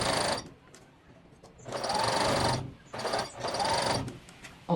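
Side seams of a garment are stitched on a sewing machine in three bursts of rapid, close mechanical whirring separated by short pauses.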